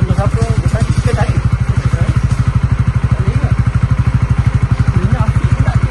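A new motorcycle's engine runs steadily close by, a rapid, even thumping pulse with a clattery edge, while people talk over it.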